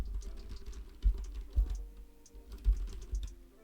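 Keys clack on a computer keyboard in a short, uneven burst of close, soft taps, a few strokes landing harder than the rest.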